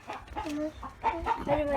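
Several chickens cluck close by in a quick, broken series of short calls.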